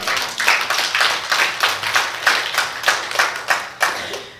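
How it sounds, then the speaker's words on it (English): A church congregation claps at a Sunday morning service, about eight steady, even-paced claps over a few seconds with no voices on top. "Y'all should be clapping."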